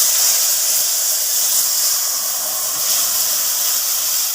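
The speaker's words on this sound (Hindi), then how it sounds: "और सरसों जो पिसा हुआ था उसको तेल में डाला गया, गरम तेल में।" Ground mustard, garlic and chili paste hit hot oil for a fish dish, giving a loud, steady, close sizzle that continues without a break.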